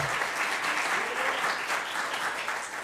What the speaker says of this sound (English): I should have had you hold your applause